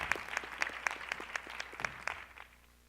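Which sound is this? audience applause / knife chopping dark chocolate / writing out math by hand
audience applause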